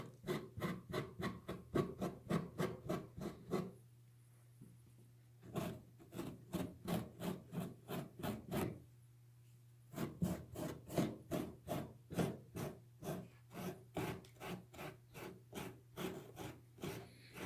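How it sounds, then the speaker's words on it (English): A Scotch-Brite pad rubs over painted backdrop rock in quick, rhythmic rasping strokes, quiet and close, in several bursts separated by short pauses, with no talk. "You don't have to scrub real hard on it. It wants to come off pretty easy with just this Scotch-Brite."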